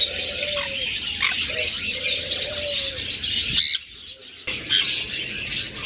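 Pet cage birds, including lovebirds, forpus, budgerigars, cockatiels and finches, chirp and squawk together in a busy, high chatter with repeated calls, briefly dropping away before resuming.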